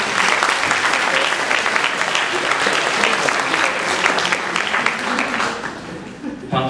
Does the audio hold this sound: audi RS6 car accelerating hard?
no